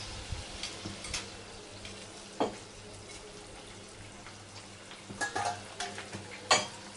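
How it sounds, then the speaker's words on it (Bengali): Fried pabda fish goes into a simmering brinjal curry, giving soft sizzling and bubbling with a few light stirring clinks and wet splashes scattered through the pan sounds. "এবার ভেজে রাখা মাছটা দিয়ে দেবো।"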